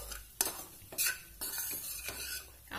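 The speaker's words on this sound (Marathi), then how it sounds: "छान असं मिक्स करू. एक 5 मिनिट आपण भाजून घेऊया." Moong dal kachori filling being stirred and roasted in a pan, with scraping spoon strokes against the metal and a soft sizzle in separate bursts, close and alone without talk.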